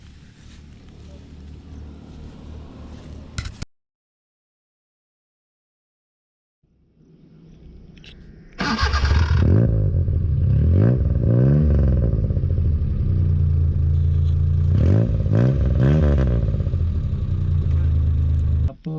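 A 1986 Maruti SS80 fitted with an aftermarket exhaust runs close by: after a lull of silence the engine starts and revs repeatedly in loud, rising and falling bursts that stay strong to the end.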